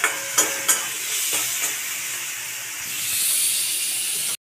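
Figs and shrimp are stirred and fried in a wok. A spatula clacks a few times at the start over a steady, close sizzle and hiss of frying that swells slightly near the end.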